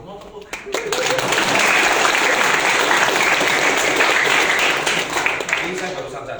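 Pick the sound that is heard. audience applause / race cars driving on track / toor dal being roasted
audience applause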